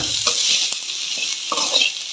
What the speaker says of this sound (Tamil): கேப்சிகம் ஒரு கப் ஆட் பண்ணிக்கலாம். இது நல்லா வறுத்துக்கலாம்.